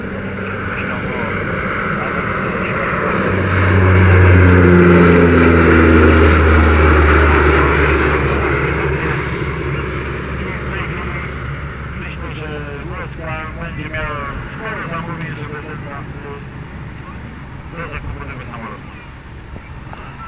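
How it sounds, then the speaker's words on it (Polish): Engines of a PZL Mielec Skytruck aircraft at an aeroclub anniversary event swell into a loud, low droning pass midway, then fade back under steady background noise and a voice. "mamy kolejną wersję tego samolotu, która nazywa się Skytrak"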